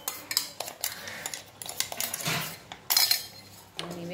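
Metal spoon scraping and clinking in a pan while flour is stirred into melted jaggery for a fasting barfi, with irregular close taps and scrapes at moderate volume.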